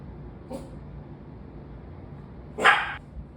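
A dog barks indoors, a faint short bark early on followed by one louder, clearer bark near the end, with quiet room tone between and no talk.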